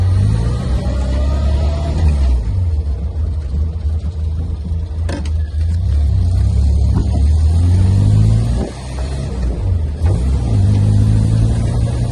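A 1964 Morris Minor 1000 Tourer, a factory convertible with the roof down, pulls away on a test drive, its small engine rumbling loudly and close with repeated gear changes and rising revs, and no voices.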